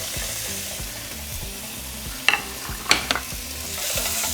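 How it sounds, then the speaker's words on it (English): Bacon sizzles steadily in a hot pan for a braised beef in tomatillo sauce, with a low background hum and a few sharp clicks and scrapes of a utensil against the pan midway. "now we're just going to cook our bacon"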